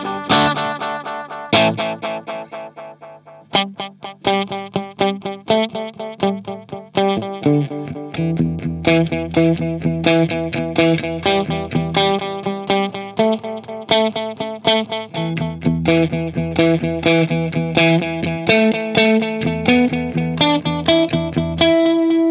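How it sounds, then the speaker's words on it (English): A guitar played through the 60s-style delay setting of a Nux Cerberus multi-effects pedal, a steady stream of picked notes and chords smeared with repeating echoes and a slightly driven tone, loud and continuous with no talking. "We'll move on to the 60s delay, which sounds like this."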